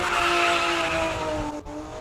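A classic race car roars past loudly at Speed Classic Cape Town, its engine note holding steady and close before it dips away briefly, a continuous dense rush of mechanical noise with no talking.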